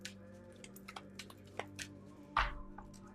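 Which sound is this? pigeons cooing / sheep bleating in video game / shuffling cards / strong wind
shuffling cards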